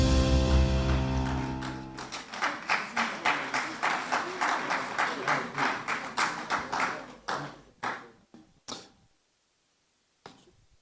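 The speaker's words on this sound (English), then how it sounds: "Shall we do a big round of applause," Claps from a crowd at the Ghana Journalists Association's 75th anniversary event come in a steady rhythmic burst of evenly spaced strokes after a low hum, then thin to a few scattered claps and stop.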